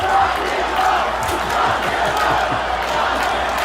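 A crowd roars and cheers at a World Series baseball game as the president is acknowledged, a loud, dense wash of voices with whoops and shouts rising and falling throughout.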